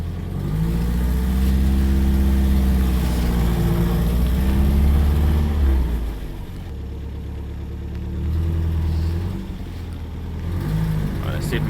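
A 1955 Austin A40 Cambridge engine labours loudly nearby as the car reverses, the revs holding high, dipping, then rising again in a rough, throbbing hum.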